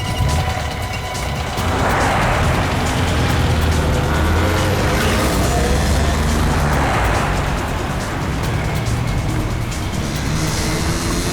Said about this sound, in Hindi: वो रही गाड़ी।